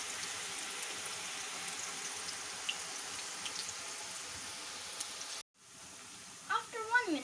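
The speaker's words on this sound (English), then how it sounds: "fry it until it gets golden brown" Potato nimko frying in hot oil, a steady, fairly soft sizzle running for several seconds before briefly cutting out, then returning with a few brighter clinks and bubbling swells near the end.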